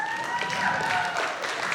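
An audience at a red carpet gala claps steadily for nominated artists. The dense, sustained applause fills the room, with faint voices mixed in.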